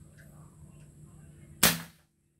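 A Farco foot pump being repaired lets out a single sharp, loud pop after a low quiet stretch, then cuts to silence.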